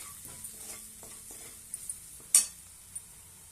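Red chili powder, coriander powder and salt being stirred together in a pan, soft faint scraping and light sizzling with a few small clicks and one sharper knock of utensil on the pan.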